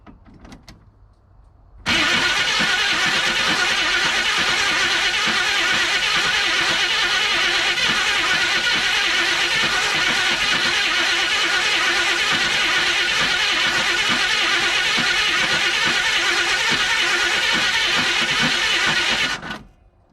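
A 1983 Chevrolet C30 Scottsdale square-body truck, pulled from a scrap yard and lacking spark with its ignition wire unplugged, cranks loudly and steadily for about seventeen seconds without catching, then stops.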